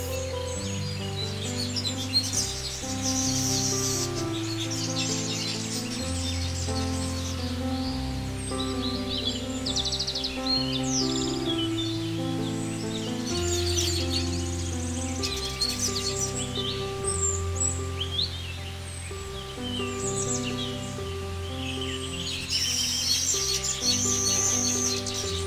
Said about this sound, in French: Le tisserand, un oiseau qui construit son nid avec des herbes et les tisse avec une habileté extraordinaire.